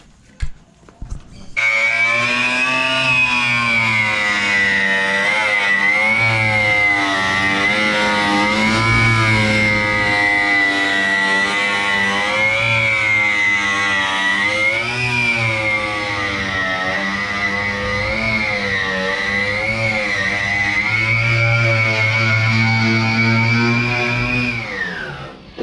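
A 1983 Chevrolet Opala's engine is held at a high, steady rev, a loud, close, buzzing drone with slight rises and dips that sustains for over twenty seconds before dropping off.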